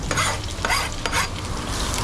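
Fish frying in a little oil in a pot at a Kingston, Jamaica street food stall, a loud continuous sizzle and crackle with stirring scrapes, close up and without talk.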